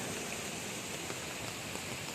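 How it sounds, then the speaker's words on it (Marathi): Steady rain falls outdoors during a heavy downpour, a dense, even patter and hiss that fills the short stretch without pause. "आता पाऊस पण आहे"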